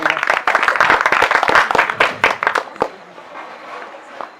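An audience at a community event in Parb Vavdi breaks into loud applause to welcome Ashokbhai, dense clapping for nearly three seconds that then thins to scattered claps and quiet murmuring.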